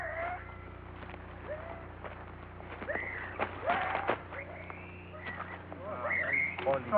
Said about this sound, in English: The air is filled with a cacophony of strange animal sounds, perhaps from frogs.